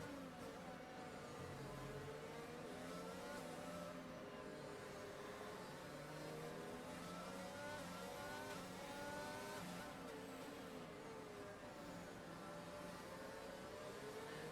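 Onboard Red Bull Formula 1 car at the Brazil Grand Prix, its engine screaming continuously with rising and falling pitch through gear changes, loud and steady for the whole stretch.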